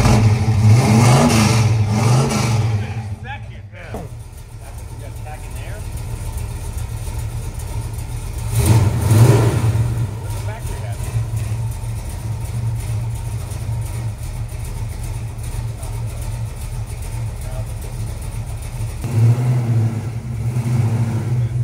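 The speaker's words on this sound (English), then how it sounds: "Take a few more cranks to fill the bowls back up." A 1964 Dodge 440 V8 engine cranks over and revs, its steady, loud mid-range rumble running continuously with a few louder bursts near the start and end.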